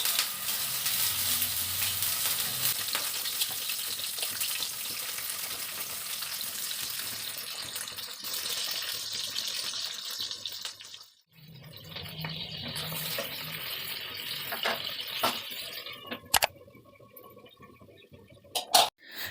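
Potato and cauliflower fry in a covered pan with a dense, steady sizzle and hiss that drops away briefly partway through, then returns with a few sharp clinks near the end.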